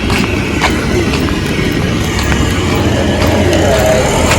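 Train noise at Mehsana railway station in Gujarat, a steady rumble of rolling rail cars with faint clacking and traffic mixed in, continuous and fairly loud throughout.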